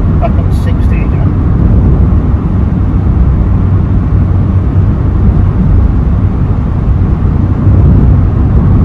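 Cabin of a 2010 Suzuki Splash with a 1.2L engine accelerating to about 60, a loud steady drone of engine and road roar filling the whole stretch without a break.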